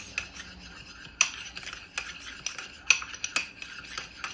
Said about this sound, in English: So once that's all together, I'm going to go ahead and mix